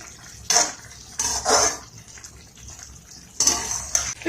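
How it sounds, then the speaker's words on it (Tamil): Boiled, cooled milk is poured into a pan of bread halwa, giving short close splashing bursts with metallic pan and utensil clinks, separated by quieter pauses. "இதில் வந்து நம்ம காய்ச்சி ஆற வச்சு இந்த பாலை இதில் கொஞ்சம் விடுவோம்"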